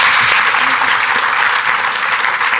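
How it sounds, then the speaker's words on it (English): A room full of people applauding panelists after a keynote on automated data entry and bookkeeping: continuous, even clapping, loud and close, with no voices rising above it. "Big round of applause for our panelists"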